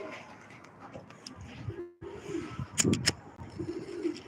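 Pigeons cooing in a loft: soft, close low coos and a few sharp chirps, fairly faint, with some voices in the background.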